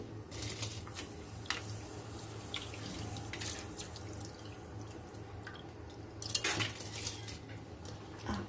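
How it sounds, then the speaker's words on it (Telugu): Moong dal and rice being stirred together in a pot for khichdi, giving faint metallic scraping and clinks of a spoon against the pot over quiet kitchen background, with a louder clatter near the end. "ఇప్పుడైతే అంతా కలుపుకోండి ఫ్రెండ్స్"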